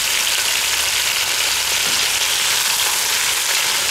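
Black Angus beef rouladen sear in a Dutch oven on an outdoor grill, giving a steady, dense sizzle and crackle of fat that holds at an even level throughout, close and continuous with no talking.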